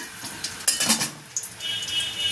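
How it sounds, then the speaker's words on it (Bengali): Bay leaves and dried red chillies crackle and sizzle in hot oil left from frying potatoes, a steady close frying hiss with a few sharp pops and utensil clinks. "এবার ওই তেলেই আমি তেজপাতা আর শুকনো লঙ্কা ফোড়ন দিচ্ছি"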